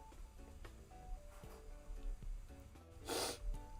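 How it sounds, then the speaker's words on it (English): One sharp, bright sneeze erupts near the end over a soft, cluttered indoor background with faint music, standing out loudly for a moment. "I keep sneezing."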